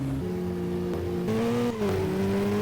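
Car engine revving steadily while driving in a Roblox game, its pitch climbing and shifting through gears, loud and close with no talk over it.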